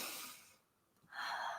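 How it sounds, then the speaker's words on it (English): Slow, soft ujjayi ocean breaths drawn in and out through the nose with the throat constricted, a close, hushed rasp with a brief pause between the breaths. "That's that nice heating breath, ocean breath, breathing through your nose, inhaling and exhaling, constricting at the back of your throat"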